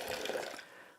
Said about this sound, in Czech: Do lavoru nalijeme vodu.